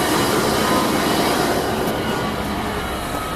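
A Nissan Xterra engine runs steadily just after starting, a loud, dense broadband roar that holds constant for a few seconds without any voices.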